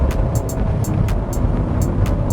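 Cadillac Escalade Platinum with a 6.2L V8 accelerating, a low, steady engine rumble heard from inside the cabin, continuous and fairly loud throughout.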